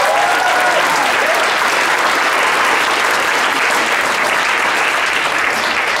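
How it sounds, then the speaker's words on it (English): A high school concert audience gives steady, dense applause for a lab jazz ensemble, loud and continuous throughout. "So give another round of applause."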